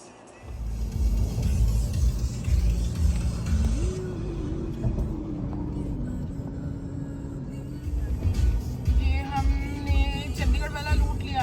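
A car travels along the Manali highway with a steady low engine rumble and road noise inside the cabin. The pitch rises and falls as it changes speed.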